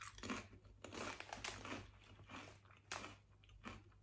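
Crisps from a Bulgarian snack box are bitten and chewed close up, with repeated crunchy bites and soft crinkling of a packet at a low, quiet level, no voice.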